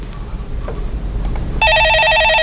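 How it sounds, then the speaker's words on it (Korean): An electronic telephone ringtone starts abruptly partway through and trills in a steady, repeating pattern. It is loud and close, and it follows a stretch of murmured studio background. "예, 전화 받아보겠습니다."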